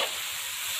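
Frog stir-fried with ginger and wood ear mushroom, a brief steady sizzle from the pan, close and even, with no talking.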